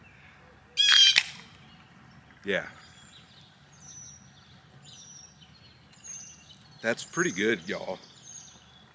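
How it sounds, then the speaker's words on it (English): Birds chirp and squawk in short bursts in the background while people talk and laugh nearby. "I'm sure you guys can hear the birds kind of going crazy in the background."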